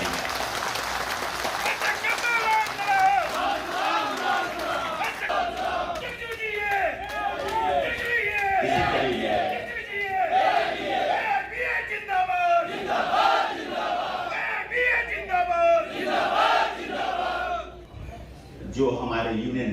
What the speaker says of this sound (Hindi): मैं आपसे निवेदन करूंगा कि एक जोरदार ताली जो है उनके लिए